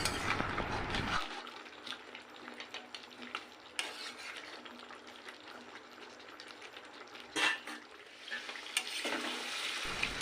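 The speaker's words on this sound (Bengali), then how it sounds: "আলু দেওয়ার পরও মিনিট 2 আর একটু কষিয়ে নেব" Chicken curry with potatoes being stirred and sautéed in a pan, a steady close sizzle of frying under repeated scraping strokes of a spoon against the metal, with occasional louder clatters.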